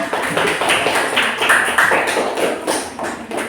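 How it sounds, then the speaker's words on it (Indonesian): A classroom group claps after a presentation, a brisk, uneven patter of many hands close by with slight surges in intensity throughout. "Dah, tepuk tangan."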